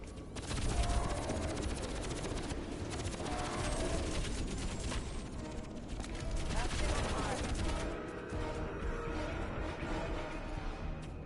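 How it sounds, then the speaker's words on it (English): Sustained heavy gunfire and explosive bursts fill a Crysis battle during an alien invasion, loud and continuous with dense automatic fire, with voices talking over the combat. "Incoming fire."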